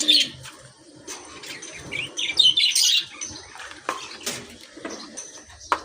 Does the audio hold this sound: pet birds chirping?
yes